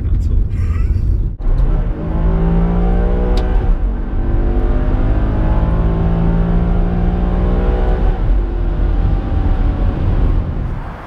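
A Maserati GranSport with a newly fitted exhaust fires up and revs hard, its loud engine rising and falling through several climbing bursts close by, with a sharp start near the beginning.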